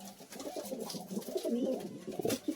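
A pair of Giribaz pigeons coo in repeated soft, throaty phrases, close by and fairly clear against a quiet background.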